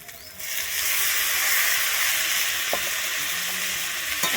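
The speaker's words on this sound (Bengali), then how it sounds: "মোচাটা দিয়ে কিন্তু এখানে খুব ভালোভাবে মিশিয়ে নেব" Boiled banana flower is stirred into a frying pan with softened tomato for a Bengali lentil dish, giving a steady loud sizzle with occasional spoon scrapes, close up and with no voices.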